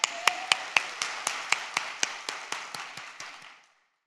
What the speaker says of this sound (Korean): 우리 주님께 한번 영광의 박수 올려드립시다